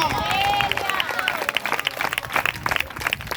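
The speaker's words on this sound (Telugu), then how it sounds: "దేవుడు మనకు చేయబోతున్నందుకై చప్పట్లు కొట్టి దేవునికి స్తోత్రం చెప్దామా?" A church congregation claps together in praise of God, a loud, dense wash of applause with crowd noise throughout, briefly overlaid by a sustained tone near the start.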